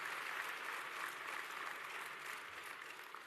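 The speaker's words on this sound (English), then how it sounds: "Can I please ask you to give Amanda a round of applause, reading all of those names?" Faint, steady applause from a large audience at a closing ceremony, a continuous wash of many hands heard from a distance that slowly tapers near the end.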